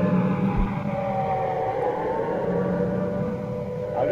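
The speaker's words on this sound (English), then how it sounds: "I'll just let you listen to the traffic and the sound of the siren for a moment" A wailing siren in London's Trafalgar Square near Nelson's Column at night, steady and prolonged with slowly gliding pitch, sounding over a dense bed of traffic rumble, with no talk.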